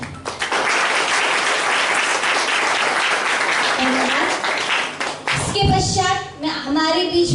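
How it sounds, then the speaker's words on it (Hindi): Dense applause from a crowd at a blood donation camp event held in a hall, clapping loud and steady for about five seconds before easing off as voices speak over its tail. "तालियां ऐसी बजे जो हम सभी को जोश आ जाए।"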